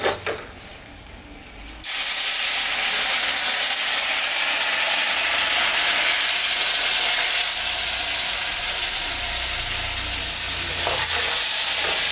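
After a quiet start, a sudden loud hiss erupts as water hits a hot pan, then a sustained, roaring sizzle continues with occasional stirring scrapes.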